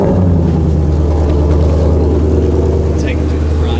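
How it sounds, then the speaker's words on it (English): The engine of a 2021 Ford Mustang Shelby GT500 Carbon Fiber Track Pack runs close by, a loud, deep, steady rumble that holds an even pitch throughout without clear rises in revs. "let's see what the engine sounds like"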